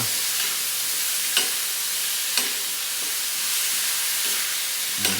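Sliced bitter gourd (ampalaya) sizzles steadily in a hot pan while a spatula stirs it, with a few sharp scrapes and clacks spaced about a second apart over the continuous frying hiss.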